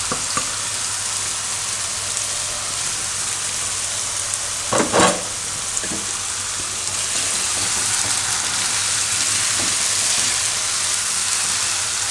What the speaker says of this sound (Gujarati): થોડીક વાર ફેરવી લેવાનું આ રીતે તેલમાં